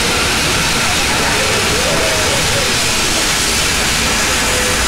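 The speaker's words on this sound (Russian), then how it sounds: "Отправляемся в путешествие на самом старом паровозе Испании по горам страны Басков." Spain's oldest steam locomotive departs on a mountain line in the Basque Country, releasing a loud, continuous roar of hissing steam with faint mechanical clanks beneath, and a voice may be speaking over it.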